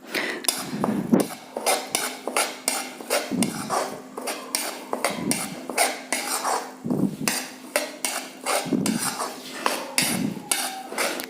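A metal spoon scrapes and clinks rhythmically against a pan while besan (gram flour) is stirred with ghee, the repeated strokes close and steady throughout.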